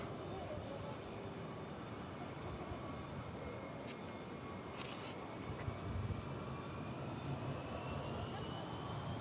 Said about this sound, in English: That's American Flight 1039 blasting off there for Los Angeles